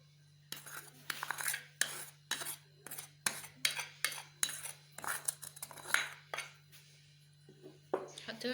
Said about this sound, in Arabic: هنخلط نص كيلو دقيق